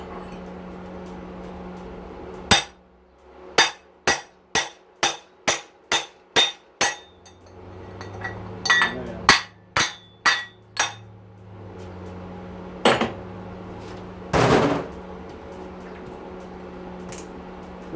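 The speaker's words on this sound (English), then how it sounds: "Hammer and chisel again." Sharp metallic hammer blows on a chisel knock a bearing out of a pressure washer being torn down. A rapid run of about nine evenly spaced strikes comes first, followed by scrapes and a few louder isolated hits.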